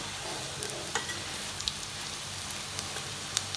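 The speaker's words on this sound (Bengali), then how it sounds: "এবার আমার ফ্রাই হতে থাক কিছুক্ষণ" Potato chops (aloo chop) fry in hot oil with a steady, close, crackling sizzle and occasional sharper pops throughout.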